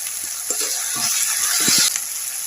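Chopped tomatoes hitting hot oil with ginger and garlic in a pan, a steady crackling sizzle with a few sharp spits and stirring clatters, close and fairly loud.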